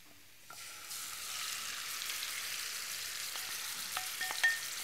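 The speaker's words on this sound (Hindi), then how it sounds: "थोड़ा सा ऑयल, ये मैरिनेटेड चिकन इसके अंदर जाएगा" Marinated chicken hits a little hot oil and starts a steady bright sizzle that holds loud and close, with a few spoon clinks near the end.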